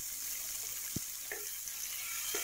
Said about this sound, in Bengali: এবং টমেটো কুচিগুলো এর মধ্যে দিয়ে দেব, কাঁচা লঙ্কা দুটো দিয়ে দেব।